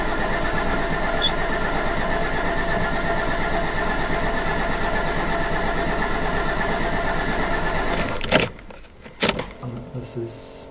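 A 1989 Mercedes 300 TD diesel engine idles steadily after a cold start, a continuous close rumble that ends with a few sharp clunks and rattles near the finish.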